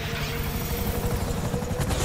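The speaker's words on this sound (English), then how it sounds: "FIB chopper, he's on to us!" An FIB helicopter in GTA V, its steady rotor drone running as a constant low rumble under dense game action, with a brief voice near the end.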